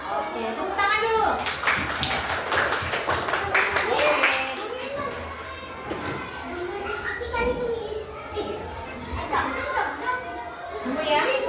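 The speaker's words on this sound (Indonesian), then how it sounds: "Oke, tepuk tangan dulu." Elementary school children clapping their hands together in a lively, ragged burst for a few seconds, surrounded by children's chatter and voices throughout.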